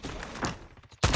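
Harsh gunfire from a multiplayer shooter match crackles in quick bursts, a short volley early on and then a louder sustained burst at the end, close up.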